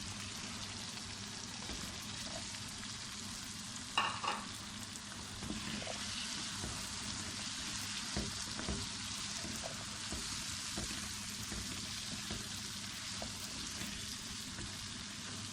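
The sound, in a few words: meat and chickpeas frying in a pan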